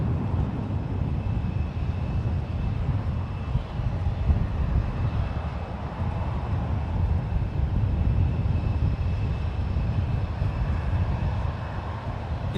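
A six-year-old United Airlines Boeing 787-9 Dreamliner departs San Francisco International Airport, its jet engines giving a steady, loud, broadband roar that holds evenly throughout with no talk.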